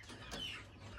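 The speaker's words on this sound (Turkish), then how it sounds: "Bizi burada harika bir gümüş fizan karşıladı." A silver pheasant on a farm gives one short, faint call from some distance, over a quiet outdoor background.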